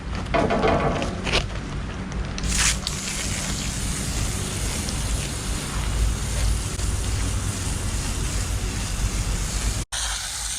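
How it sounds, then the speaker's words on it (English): A steady, close hiss of aerosol coil cleaner spraying onto the condenser fins of a mini split air conditioner runs continuously for about ten seconds, broken by a brief pause near the end. "Now we'll spray it liberally on all the condenser fins."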